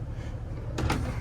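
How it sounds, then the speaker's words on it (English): A storage cabinet door on a 2020 Newmar Dutch Star Class A diesel pusher motorhome swings shut with a single brief close near the end, heard up close over steady low background hum. "Let me close this door."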